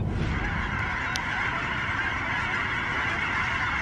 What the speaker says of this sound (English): Oh, those are geese. Look at all those geese.